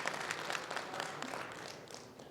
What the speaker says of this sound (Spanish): Un aplauso para todas las flores del presidium.